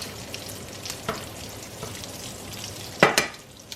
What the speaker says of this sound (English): So now our beef bacon is just about finishing up. You see that sizzle?